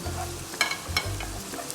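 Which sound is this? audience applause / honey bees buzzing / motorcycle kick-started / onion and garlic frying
onion and garlic frying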